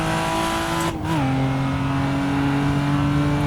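A Toyota Supra Mk IV in Assetto Corsa on the Nordschleife, its engine held high in the rev range with a loud steady drone, a brief dip and shift in pitch, then sustained revving.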